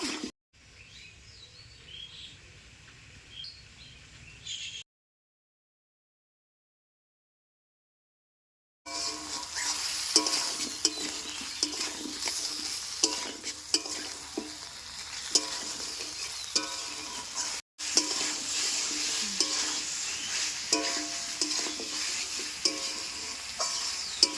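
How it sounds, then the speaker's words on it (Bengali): Meat with potatoes and spices is stirred and fried in a pan over a village cooking fire, a steady sizzle with scraping stirs, broken by a short silent gap. "এবার মাংসটা ভালো মতো কষাই নেবো মশলার সাথে একটু সময় নিয়ে ধরিয়ে দেবেন"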